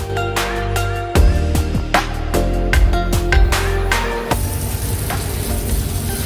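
Pomfret and kingfish masala fry sizzling at a beach food stall, a loud steady frying hiss with clattering strikes and scrapes throughout, the sizzle continuing alone at the end.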